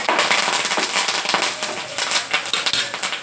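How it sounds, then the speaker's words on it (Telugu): Curry leaves spluttering in hot oil for tempering, with green chilies and seasoning seeds already in the pan; dense, continuous crackling and popping pops out loud and close throughout, with no talking. "ఇప్పుడు మనం కరివేపాకు వేసుకోవాలి."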